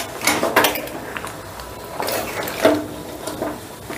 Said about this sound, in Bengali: এবারে মাংসটাকে নেড়ে চেড়ে বেশ ভালো করে জলের সঙ্গে মিশিয়ে দিচ্ছি